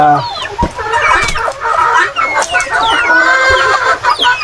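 Rhode Island Red chickens on a farm cluck continuously and loudly, with overlapping calls from many birds close by and occasional sharper squawks.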